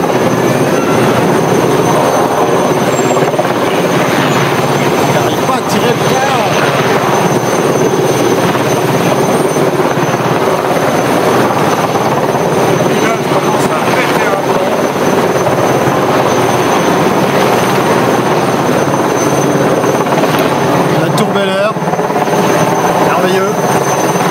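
A helicopter hovers loudly and steadily nearby while setting down an alarm siren on a tower, its rotor and engine roar constant throughout with faint voices beneath.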